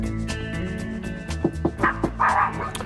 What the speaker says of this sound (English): Oh, a nice little dog.